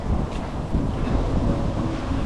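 Strong wind buffets the microphone outdoors, a steady loud rumbling roar with gusty swells and no pauses.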